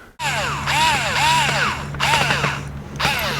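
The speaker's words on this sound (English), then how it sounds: "So let's get the rest of these drilled." A drill bores holes in the wooden boards of a rustic binder. The whirring and grinding comes in close, loud bursts with short pauses between them.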